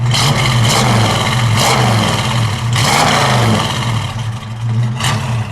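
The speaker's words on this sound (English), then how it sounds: "Give it a rev, Dave." A 1965 Ford Mustang 2+2 Fastback's 289 V8 revs up several times over a steady idle, each loud surge of vroom rising and falling in short bursts.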